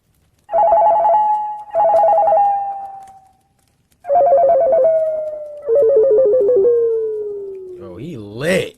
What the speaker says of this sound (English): I remember hearing my cell phone ringing throughout the night.